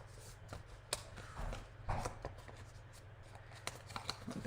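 Stiff scored cardstock is creased and folded by hand, giving a string of short crisp snaps and papery rustles at close range with uneven spacing.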